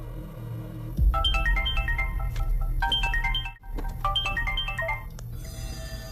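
A phone ringtone plays three repeated bursts of a bright melodic electronic phrase, clear and steady, with a short gap between the second and third bursts.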